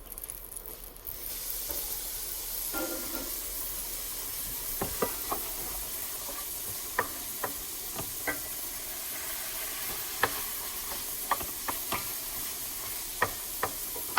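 Ground beef sizzles steadily in a large pan while a utensil scrapes and clacks against it in a string of sharp, near taps that come about every second.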